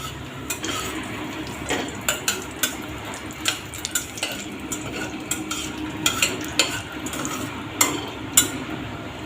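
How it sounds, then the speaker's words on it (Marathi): Cashews and almonds sautéed on low flame with cinnamon, cloves and cardamom for narali bhat, a soft background sizzle punctuated by frequent light spoon scrapes and clinks against the pan, close and without talking. "आता याच्यात आपण काजू बदाम हलक्या गॅसवर परतून घ्यायचे"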